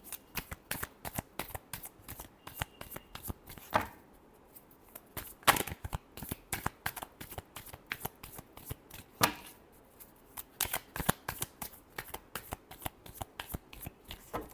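Tarot cards shuffled by hand in quick riffling bursts, crisp rapid flutters repeating in a steady rhythm with two short pauses, close and clear with no voices.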